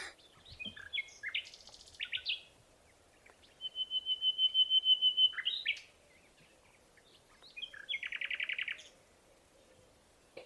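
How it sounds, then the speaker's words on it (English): A common nightingale sings alone at a moderate distance, delivering varied phrases of chirps, a sustained pure whistle and rapid repeated trills separated by short pauses over a faint background hum. "I think first, listening to what a nightingale sounds like."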